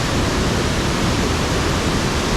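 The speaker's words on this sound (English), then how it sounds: "I don't think I've ever seen such a big waterfall." A huge waterfall at Nauyaca, Costa Rica roars close by as a steady, dense, full-band rush that never lets up, with no voices over it.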